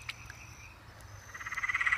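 A tree frog, an eastern dwarf or Peron's tree frog, calls at night, with scattered croaks that build into a rapid, rhythmic run of pulsed calls, fairly close and loud.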